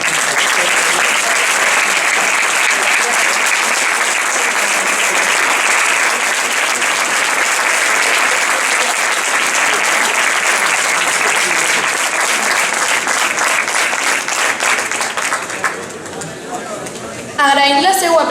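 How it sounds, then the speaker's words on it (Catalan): Loud, sustained applause from the audience at a Valencian falla's children's exaltation ceremony, a thick unbroken roar of clapping that thins out near the end before a voice returns. "volem que torneu a escoltar un fortíssim aplaudiment dels amics de la Falla Sant Vicent Periodista Fatí"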